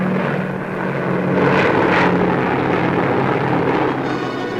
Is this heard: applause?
no